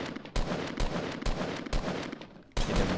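Gray assault rifle firing in Fortnite Battle Royale: a run of sharp, loud shots in bursts, each a broad crack with a short tail, spaced irregularly about half a second apart.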